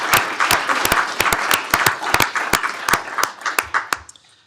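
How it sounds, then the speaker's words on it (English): A room at a county commissioners court meeting applauds a 25-year employee: steady, fairly loud clapping from a modest group, sharp individual claps standing out, fading toward the end. "let's give him a round of applause if he's watching"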